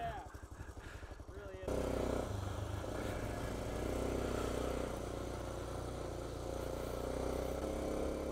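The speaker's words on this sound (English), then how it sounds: "It's like a stormtrooper motorcycle." A motorcycle engine passes close by, a loud steady drone that swells and holds for several seconds after a brief stretch of quieter background, with a voice speaking briefly over the start.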